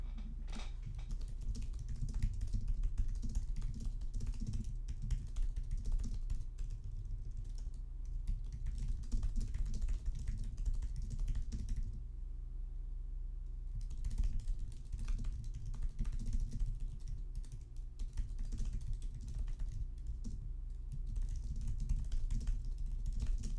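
Fingers type steadily on a computer keyboard, a close, continuous patter of key clicks with a brief pause partway through and a low hum beneath.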